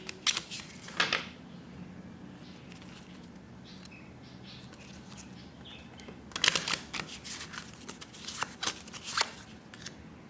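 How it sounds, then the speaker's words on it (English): Playing cards are shuffled in short, crisp riffling bursts, first near the start and again later, with quieter handling and soft shuffling between them in an otherwise calm room. "So we're shuffling for the 4th time."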